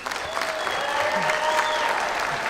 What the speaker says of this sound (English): I would like you to clap for them.